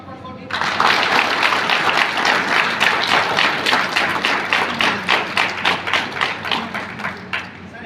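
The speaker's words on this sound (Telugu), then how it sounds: "ఒకసారి గట్టి చప్పట్లు కొట్టి." A Vestige business meeting audience bursts into loud, dense clapping that fills the room, then thins toward the end into slower, more distinct rhythmic claps before stopping.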